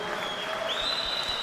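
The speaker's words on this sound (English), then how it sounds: "Give her a big round of applause." Crowd applauding a swimmer after a final at a New Zealand open swimming championship, a steady, even wash of clapping in a large echoing pool hall with a faint tone running over it.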